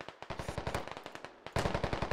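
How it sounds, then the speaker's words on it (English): Rapid automatic gunfire in the Squad video game rattles in fast bursts of sharp shots, pausing briefly before a louder, closer burst resumes. "They're firing straight in on his position"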